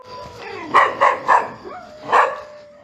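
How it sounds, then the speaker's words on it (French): A dog barks several times close by, three quick barks in a row and then one more after a short pause. "Écoutez les chiens, écoutez les chiens."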